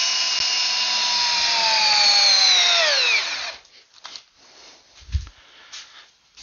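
A Ryobi drill in speed one strains to drive a 5/8 by 12-inch lag screw for a torque test, its loud steady whine slowly dropping in pitch for about three seconds before stopping, followed by quieter clicks and shuffling.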